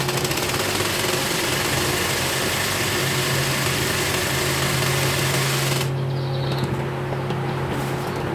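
A sewing machine stitches palazzo pants in a fast, continuous mechanical whir with a steady hum underneath. It runs close and loud throughout, then thins out abruptly toward the end.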